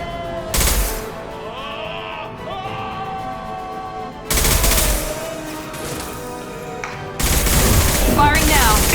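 Mass Effect 2 Legendary Edition combat gunfire arrives in three loud, dense bursts, each a second or more long, set against quieter in-game sound and character voices between them.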